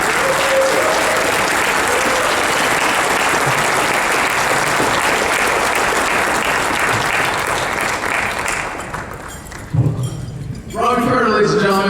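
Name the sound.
audience applause at a convention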